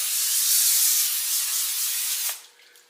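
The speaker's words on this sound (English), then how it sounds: "I'm gonna give it a good spray with vegetable spray" Vegetable cooking spray hissing onto a foil-lined shallow baking dish, one continuous close, loud burst lasting over two seconds before cutting off.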